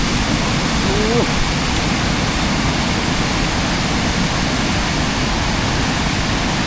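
A constant, loud rushing roar of falling water fills the scene without pause from a curtain-like waterfall in Laos.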